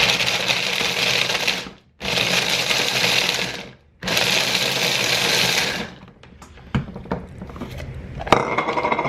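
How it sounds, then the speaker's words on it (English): A food processor whirs loudly in three steady bursts of about two seconds each, mixing banana bread batter, then stops and gives way to quieter clinks and handling sounds. "Literally, a food processor makes this process so easy"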